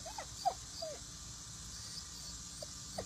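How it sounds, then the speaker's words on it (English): A one-year-old German short-haired pointer lets out a few short, high whimpers and whines at irregular intervals, faint against a quiet indoor background hiss. "So this is Barrett. He's a 1-year-old German short-hair pointer"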